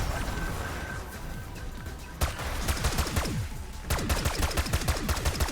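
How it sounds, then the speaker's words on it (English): Hip-fired DM10 rifle shots in Black Ops 6 Zombies, rapid repeated bursts of gunfire with sharp echoing cracks that grow denser toward the end, over game background sound. "We're just hip firing and just melting."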